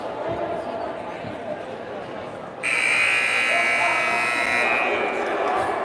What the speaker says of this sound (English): That's the buzzer, and we're coming back now for the second period.